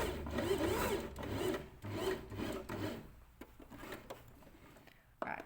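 A sewing machine stitches a fabric pocket in short bursts of steady mechanical whirring, close and moderately loud for about three seconds, then stops, leaving faint handling clicks.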